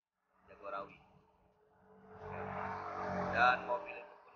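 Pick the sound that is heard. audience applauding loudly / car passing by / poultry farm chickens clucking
car passing by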